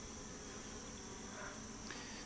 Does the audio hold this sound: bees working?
yes